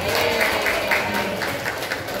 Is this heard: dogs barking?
no